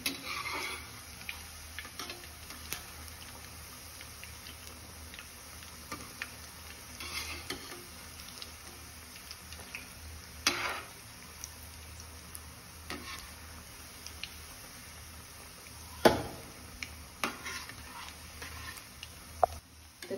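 Bread snack frying in a pan, a faint steady sizzle with occasional soft clicks and scrapes of utensil against the pan, quiet throughout with no talking.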